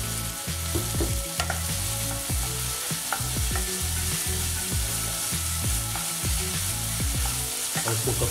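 Chopped tomatoes with salt sizzle in a pan for sooji upma, close and steady, while a utensil scrapes and knocks in a regular stirring rhythm throughout.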